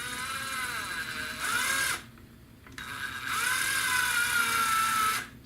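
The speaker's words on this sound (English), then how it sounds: "Just go ahead and tighten that into a drill, a variable speed drill." A variable speed power drill whirs in two bursts separated by a short pause, pitch rising and settling as the speed changes, close and alone, while assembling a T-Rex 700X helicopter rotor head.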